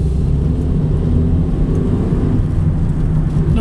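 A Vauxhall Combo 1.4 van running on LPG pulls away through first and second gear, its engine a steady low drone with continuous road and cabin hum heard from inside.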